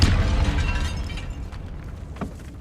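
A Confringo fire spell exploding in the Hogwarts Legacy game, a loud booming burst at the start that rumbles and fades, with a smaller crackling pop shortly after.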